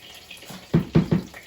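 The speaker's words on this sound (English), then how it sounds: "Oh, we got this bubbling and crackling and everything." Broccoli rabe and garlic cook in a hot pan, giving three sharp sizzling bursts in quick succession over a quiet background.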